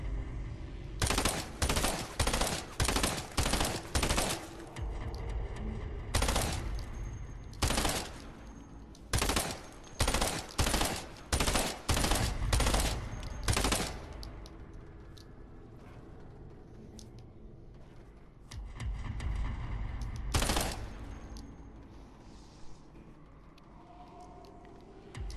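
A Burst SMG in Fortnite fires in quick, sharp bursts, loud and close, in repeated volleys over the first fourteen seconds and once more later, with quieter mechanical shuffling between shots and no speech.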